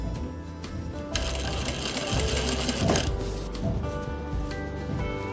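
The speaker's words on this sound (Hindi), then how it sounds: "बस ये सिलाई आपने ना धीरे धीरे लगानी है" A sewing machine slowly stitches a stand collar, its close, mechanical whirring and clicking gears running in uneven bursts that speed up and ease off, with no voices.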